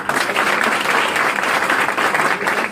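Steady audience applause at a business opportunity program fills the whole stretch, loud and dense with no voices on top.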